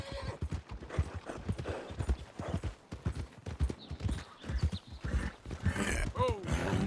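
Horse hooves clip-clop at a steady trot in the video game Red Dead Redemption 2, a close, regular rhythm running under intermittent dialogue, with a brief whinny near the end.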